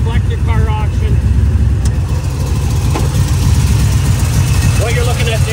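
A 1991 Chevy C10 truck with a 383 stroker V8 idles loudly and steadily up close, a deep low rumble beneath someone talking over it.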